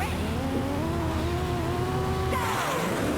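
Kart engines rev and whine at the start of a race in Diddy Kong Racing DS, a steady layered buzz of game motors that sweeps upward near the end, loud and continuous with no talking.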